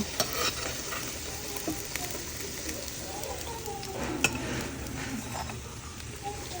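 Pumpkin flower fritters fry quietly in hot oil with a soft, continuous sizzle and an occasional faint clink of a utensil in the pan.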